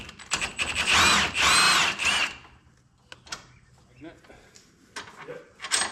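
An impact gun with an 18mm socket on the front shock bolt of a 2022 Can-Am fires in loud, close bursts of high whirring rattle for about two seconds, then gives way to quieter clanks and tool handling.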